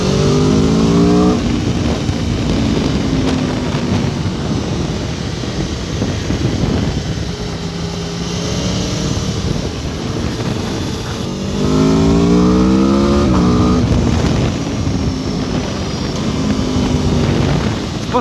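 An Aprilia Tuono V4 Factory motorcycle's engine pulls loud and close through repeated rising accelerations, each run sweeping upward with a rough roar and some wind noise behind it.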